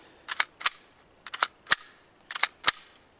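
A pistol fired in bursts during a malfunction clearance drill: sharp, fairly distant cracks in quick pairs and triplets separated by short pauses, about ten shots in all, with no talking.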